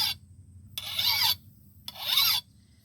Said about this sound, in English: instead of holding the file flat, because I like that convex edge, I tend to roll the file as I sharpen it.